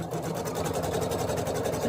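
Embroidery machine stitching in the hoop, a fast steady rhythmic mechanical whir and needle clatter, close and continuous.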